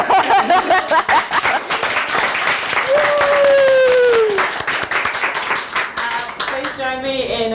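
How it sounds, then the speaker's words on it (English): A conference audience applauds a panel, with dense clapping running throughout and voices and other sounds mixed in. "Join me in another round of applause for our amazing panel, Annie Louey, Nikki Viveca"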